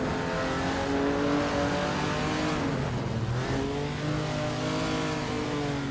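A 1952 Jaguar C-Type in a racing video game on a street circuit, its engine droning and revving with pitch rising and falling as it shifts and accelerates, fairly steady and close.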